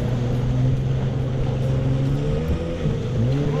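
A jet ski engine drones loud and close, a steady motor hum whose pitch wavers and shifts slightly as the throttle changes, with no voices over it.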